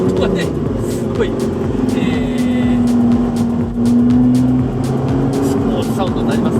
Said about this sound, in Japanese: これがですね、サウンドをこれで主に変えるスイッチ、これを入れるとエンジン音がちょっと低いんじゃないですか